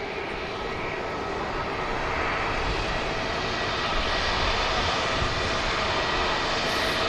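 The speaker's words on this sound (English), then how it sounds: "4 EasyJets over here on the south side with us." Several EasyJet airliners on the south side of Manchester Airport produce a steady, broad jet-engine roar that holds at an even level throughout, with no voices.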